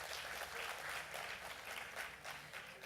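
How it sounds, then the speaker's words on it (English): Audience applause at a health and sustainability panel event: a soft, steady patter of many hands clapping, fairly distant and faint, with no talk over it. "A huge round of applause once again for her"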